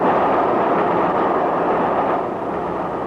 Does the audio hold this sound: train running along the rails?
yes